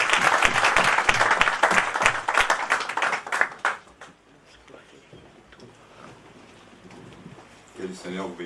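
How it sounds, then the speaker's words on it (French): Church congregation at an anniversary service breaking into dense, loud clapping for about four seconds, then fading into a murmuring room with scattered voices. "donnons une acclamation"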